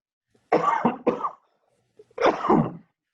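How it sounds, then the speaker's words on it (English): Three harsh, close coughs, two in quick succession and then one more after a short pause, against silence. "I got a cough."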